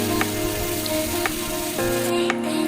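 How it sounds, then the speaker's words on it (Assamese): Pieces of elephant apple fry in hot mustard oil with a loud, steady sizzle close by, punctuated by a few sharp pops and spatters, with no talking. "এতিয়া ঔটেঙা কিডখৰ তেলত দি দিম এনেকৈ ভাজি থাকিব লাগিব"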